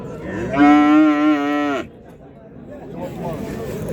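A cow at a livestock market in Khojaobod, Andijan region, Uzbekistan, gives one loud, drawn-out moo lasting just over a second, close by, followed by quieter background murmur of the market.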